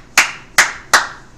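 Three sharp, loud hand claps sound alone, evenly spaced and close.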